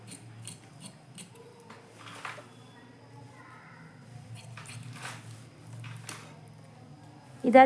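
Scissors snip through blouse fabric along a marked front shape in a series of close, crisp cuts, some quick and some spaced out, with quiet background noise and a louder knock at the end.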